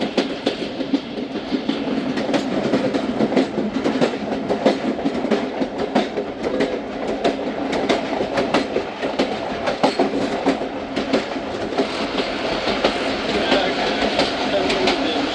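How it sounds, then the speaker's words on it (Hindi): The Thal Express passer train rolls through Sulemanabad railway station in mountainous terrain, loud continuous rumble with rhythmic clickety-clack of wheels over rail joints, voices faintly underneath. "सुलेमानाबाद रेलवे स्टेशन से थ्रू पास हुई है ट्रेन"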